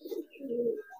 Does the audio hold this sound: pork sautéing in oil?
no